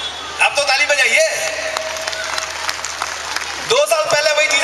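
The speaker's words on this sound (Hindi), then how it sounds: "अब तो ताली बजाइए।" Audience applause at a motivational parenting talk, a broad wash of clapping that swells at the start, carries on steadily through the middle and rises again near the end, with a sustained tone beneath it.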